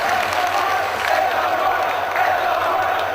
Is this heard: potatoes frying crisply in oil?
no